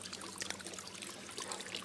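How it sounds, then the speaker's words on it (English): Water trickling and splashing through a gold sluice on an Oregon beach, with the flow turned up: a close, steady, fizzy stream of babbling water with small bright splashes, no talk. "So I speeded the water up a bit"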